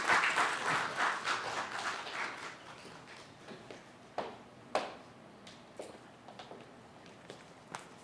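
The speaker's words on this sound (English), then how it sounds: "join me in welcoming Professor Dr. Aurelio Solver Agcaoili with a warm round of applause" Audience applause welcoming a professor onto the stage at a lecture on faith and science, a burst of clapping that fades within a few seconds, followed by scattered claps and a few sharp knocks.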